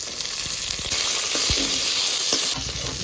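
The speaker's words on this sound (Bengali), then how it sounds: "ওই তেলের মধ্যেই কাঁচকলাগুলোকেও ভেজে দিচ্ছি," Green bananas fry in hot oil in a pan, a dense, continuous close-up sizzle with a few soft stirring knocks and scrapes, loud and steady throughout with no voices.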